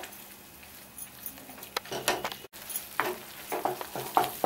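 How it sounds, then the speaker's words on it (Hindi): Khoa (mawa) frying in ghee over a low flame while being stirred, soft irregular sizzling with scraping spoon strokes, fairly faint and close. "और इसको तब तक फ्राई करेंगे जब तक ये गुलाबी नहीं हो जाएगा।"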